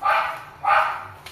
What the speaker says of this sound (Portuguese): É o cachorro do vizinho.